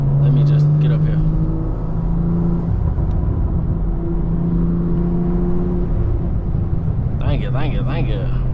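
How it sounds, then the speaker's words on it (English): A car fitted with a catless downpipe and full exhaust burbles and rumbles loudly up close through a steady drone, with crackling pops near the end. A voice talks over the engine. "I don't know if y'all can hear those burbles"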